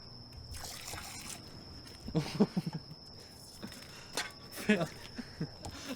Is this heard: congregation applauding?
no